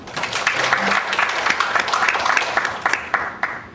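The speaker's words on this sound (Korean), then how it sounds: "박수로 환영하겠습니다." Audience at a Korean seminar on global healthcare and digital hospital exports claps to welcome a speaker, a steady burst of many hands, fairly loud and continuous.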